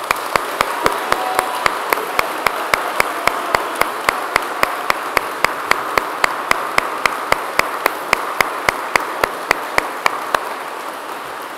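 Audience applause fills a Cambridge graduation ceremony in a hall: steady, dense clapping holds for about eleven seconds at even loudness, with a regular sharp ticking running through it.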